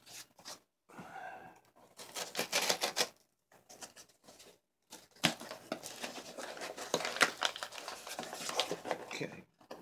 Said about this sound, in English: let's open them up. We sure got a lot of tape.